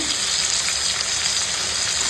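Tomato and spices, including bay leaf and panch phoron, fry in hot oil for a vegetarian cabbage ghonto, giving a loud, continuous close sizzle with no speech.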